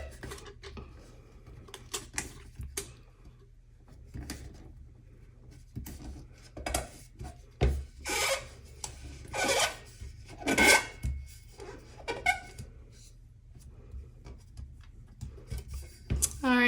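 A finger presses firmly and runs along tape on a sublimation tumbler, giving scattered close rubbing and rasping squeaks in irregular bursts, with soft room noise between them and no talking.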